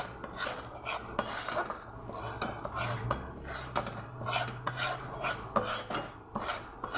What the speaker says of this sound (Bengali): অনবরত এরকম নাড়িয়ে নেব।